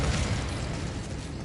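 Incendio fire spell cast in Hogwarts Legacy, a short dense burst of roaring flame with a crackling, rumbling low end that holds steady and fades slightly over a second and a half.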